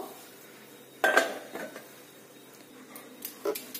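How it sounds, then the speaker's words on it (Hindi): A knife turns suji appe in an appe pan: one sharp metallic clink and scrape, then a few fainter taps and scrapes against the pan in a quiet kitchen. "ये देखो एक चक्कू की सहायता से हम अभी टर्न करते हैं"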